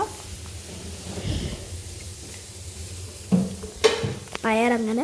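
Payar beans fry in a pan with a steady sizzle, then stirring scrapes and clattering pot sounds grow louder near the end, with a brief squeaky tonal sound at the close.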